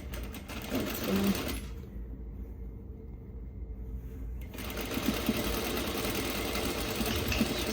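A long-arm quilting machine stitches a scrappy quilt with a steady, fast mechanical hum and rapid needle chatter. The sound drops briefly in the middle, then resumes at a consistent level.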